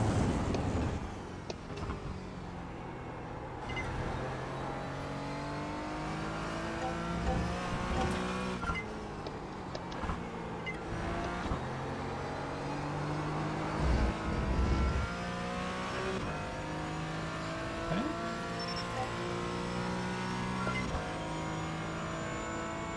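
Race car engine in the iRacing sim, revving and shifting continuously with rising and falling pitch, loud and steady throughout with no talking.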